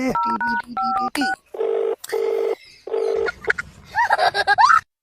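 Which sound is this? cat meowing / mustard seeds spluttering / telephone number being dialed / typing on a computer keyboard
telephone number being dialed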